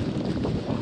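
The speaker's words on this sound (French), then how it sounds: "le vent souffle de plus en plus fort" Strong wind blowing through an exposed Lapland valley along the Kungsleden trail, a dense, roaring rush buffeting the microphone loudly and steadily throughout the brief moment, with no voices.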